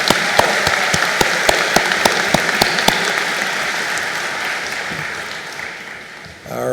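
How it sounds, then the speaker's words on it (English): Audience applause at a SUNY Canton commencement ceremony, a steady, loud wash of clapping filling a large space, with a few sharp individual claps standing out near the start before it slowly fades. "Another round of applause, please, for our speaker."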